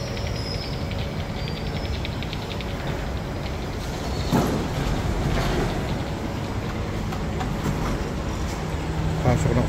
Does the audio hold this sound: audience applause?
no